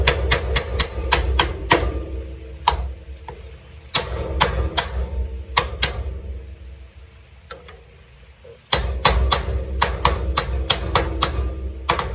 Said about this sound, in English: cut a piece of 2-inch PVC, slides right over, hammers it in.